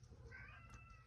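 A pet cat lets out a single short, faint meow over a low steady background hum.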